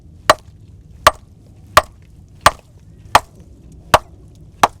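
A clear piece of Seattle bedrock is struck hard seven times at an even, steady pace, each blow a sharp, close, cracking snap with a short ring, and no voices between them.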